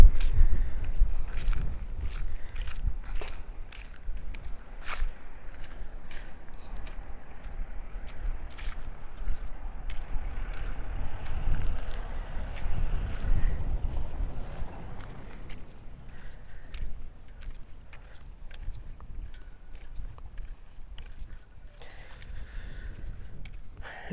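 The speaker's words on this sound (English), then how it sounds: "because it's like really, really windy." Strong outdoor wind buffets the microphone in an uneven, rumbling roar, gusting up and down throughout, with faint intermittent clicks and rustles but no talk.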